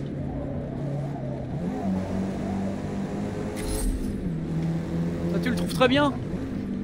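A racing car in Forza Motorsport on Xbox Series X roars with a steady engine drone. Near the end a short, high tire squeal cuts through, while someone talks over the game throughout.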